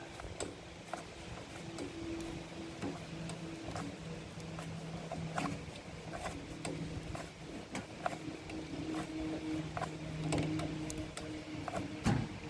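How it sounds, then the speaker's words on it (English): A repaired air compressor, freshly fitted with a new pressure valve, runs steadily with a constant mechanical hum and faint rapid ticking throughout. "I now have a working air compressor."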